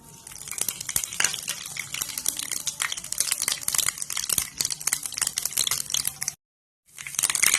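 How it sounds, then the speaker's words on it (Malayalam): Mustard seeds crackle and pop in hot oil for a sambar tempering, a dense run of sharp close pops over a frying hiss that stops briefly near the end and then resumes. "കടുക് പൊട്ടി വന്നിട്ടുണ്ട്"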